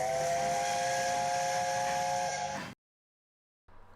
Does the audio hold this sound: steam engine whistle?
yes